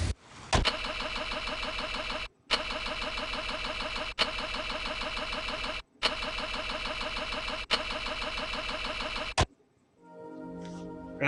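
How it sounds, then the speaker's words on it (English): A car engine in a video game cranks repeatedly but fails to start: four long, steady grinding starter bursts separated by brief pauses, loud and close, then dropping to near quiet. "Perhaps it's safe for all of us that the car wouldn't crank."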